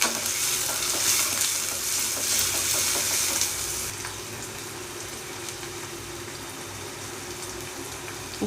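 Sliced onions fry in hot oil in a pan for cashew almond chicken curry, a dense close sizzling hiss that is louder at first and then settles to a steadier, softer crackle.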